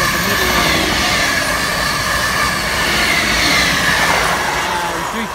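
A Class 325 Royal Mail electric train passes through Lancaster station on the West Coast Main Line, producing a loud, continuous rushing roar with a high whine that holds steady before fading slightly at the end.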